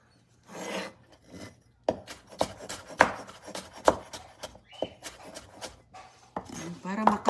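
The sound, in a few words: knife chopping onion and ginger finely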